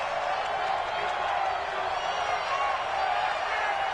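Stadium crowd roar in a video game football match, a dense, steady wash of distant cheering and murmur holding at constant volume with no breaks.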